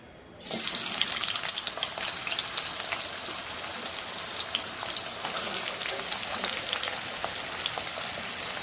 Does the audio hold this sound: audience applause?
no